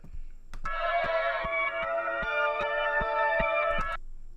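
A bright, high-pitched synth-like sample, pitched up a full octave, holds for several seconds over a steady ticking trap beat, sounding thin and raised in pitch.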